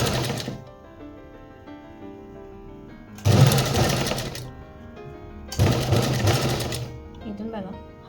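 A sewing machine stitching a blouse seam runs in two distinct bursts of rapid mechanical chattering, close and fairly loud, separated by pauses where someone speaks.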